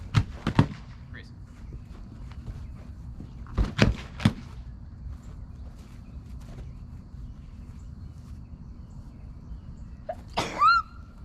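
Several sharp, explosive sneezes burst out in a row, loud and close, over a low background hum, with a brief voiced sound near the end.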